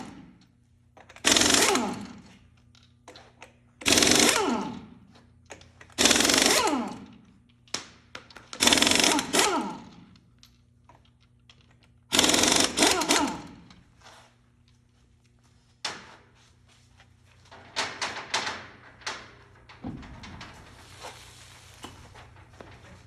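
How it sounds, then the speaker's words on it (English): A pneumatic impact gun zips car lug nuts off a wheel during a tire rotation: a series of loud, close bursts of rapid hammering, each lasting about a second with pauses between, followed by shorter, lighter bursts. "we're going to take a pneumatic air tool known as an impact gun, and we're going to remove the lug nuts"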